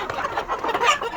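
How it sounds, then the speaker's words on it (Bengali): Hens and a rooster in a backyard poultry coop with laying nests cluck busily at close range, a loud, overlapping run of calls with no talking. "এই একটা মোরগ"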